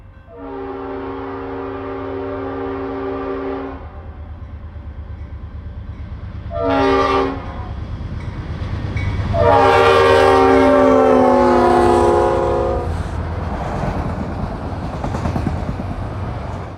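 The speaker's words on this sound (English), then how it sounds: "I heard a rare Leslie RS5T horn blowing for Richland in the distance" A rare Leslie RS5T train horn blows for a crossing at Richland in the distance, with several long sustained blasts and a short burst between them, heard over a low rumbling background.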